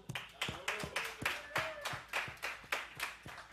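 Rhythmic clapping for the bands at a hip-hop band contest final, steady evenly spaced claps about four per second, faint and fairly close, with a voice briefly audible.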